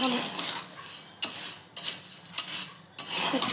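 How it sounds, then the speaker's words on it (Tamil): A utensil scrapes and stirs moringa leaves with salt in a pan, making a continuous gritty rasping broken by a few sharper metallic scrapes and knocks. "நல்லா கிளறணுங்க, கிளறிக்கினே இருக்கணும்"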